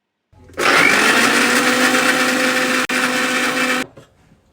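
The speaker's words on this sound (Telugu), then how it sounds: "ఇప్పుడు అదే జార్లో 1 ఇంచ్ అల్లము, ఒక 7-8 ఎల్లిపాయలు, వేయించి పెట్టుకున్న ఉల్లిగడ్డలు వేసి మిక్సీ పట్టుకోవాలండి" A mixie grinder whirs loudly for about three seconds as it blends ginger, garlic and fried onions in its jar, with one brief dip in the middle and a quick spin-down, heard close with no talking.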